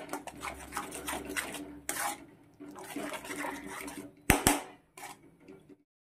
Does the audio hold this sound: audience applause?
no